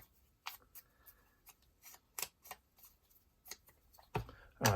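Scissors cutting by hand along paper edges for an art journal page, giving a series of short crisp snips and rustles, close and quiet, with no speech.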